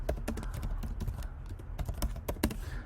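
Command being typed on a computer keyboard, a quick uneven run of crisp, close key clicks with short pauses between bursts, with no talk over it.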